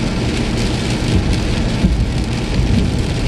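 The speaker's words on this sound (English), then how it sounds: "I'm capturing really, really good footage of rain on my windshield" Heavy rain pounds steadily on a car windshield, a dense, loud, continuous patter filling the whole stretch with no voices present.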